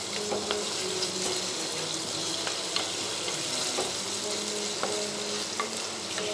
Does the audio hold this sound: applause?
no